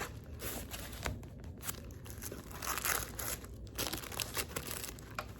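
Double-stick tape backing being peeled off by hand while making a Dollar Tree graduation decoration, a close, continuous crinkling and tearing rustle with small crackles throughout, no talking.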